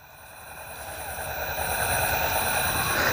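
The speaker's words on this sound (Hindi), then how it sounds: "और हाँ ट्रैक्टर ही है," A tractor engine runs nearby at night, a steady low rumbling drone that grows slightly louder over the few seconds, with faint high insect-like tones above it.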